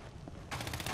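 Sudden burst of rapid gunfire in Fortnite cutting in halfway through, quick loud repeated shots after a quieter opening.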